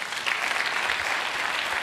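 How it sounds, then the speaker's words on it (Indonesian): Audience applause at a speech or sermon event, a steady dense patter of many hands clapping throughout, fairly loud and continuous with no pauses. "Tepuk tangan, saudara."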